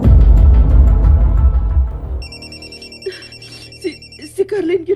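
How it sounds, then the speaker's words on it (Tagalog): A cellphone ringtone chiming in a repeating electronic pattern, starting after a loud rumbling burst and playing on, with brief voice sounds near the end. "Imong cellphone, te."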